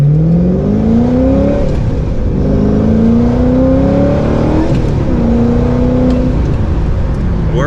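A 2005 Ford GT engine revs up through rising gears, its pitch climbing and dropping with each shift, loud and close from inside the vehicle.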